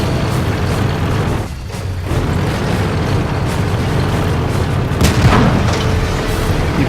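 A single deep tank-gun boom from a KV-3 heavy tank in a tank video game, sounding once near the end over a steady, loud engine rumble.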